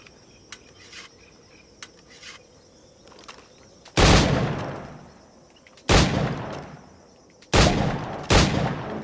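Gunshots fired at targets in Assassin's Creed 4 Black Flag: four loud, sharp blasts with booming tails spaced a couple of seconds apart, preceded by quiet ambient clicks and a steady insect-like chirping background.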